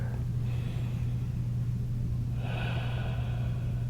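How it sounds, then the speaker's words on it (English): Slow, deep breathing during a post-surf yoga session, a long steady inhale or exhale rising into a second breath, close and airy over a constant low hum. "Two rounds of breath."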